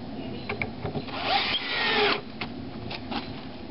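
A power drill whirs in short bursts, one longer run in the middle, close by with no talking, while building a sliding pole mount for an American Kestrel nest box.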